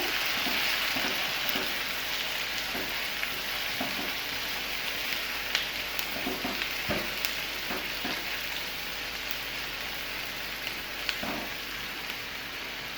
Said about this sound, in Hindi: अब इस पॉइंट पे मैं इसमें ऐड करूंगी टमाटर। मिक्स करेंगे।